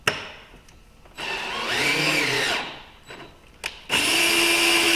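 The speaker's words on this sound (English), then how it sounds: "I like doing those with a drill" A power drill whirs in two bursts during a valve adjustment on a 1990 Geo Tracker 4x4, a longer run followed by a brief pause and another sustained spin, close by with no talking.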